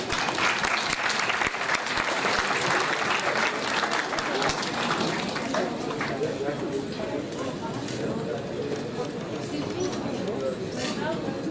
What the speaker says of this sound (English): Ladies and gentlemen, a huge round of applause for Professor Dr. Aftab Ahmed Maroof.